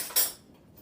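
A spoon scrapes tiny amaranth grains into a bowl while making smoky amaranth and black bean burgers: one short, bright metallic scrape up close, followed by quiet.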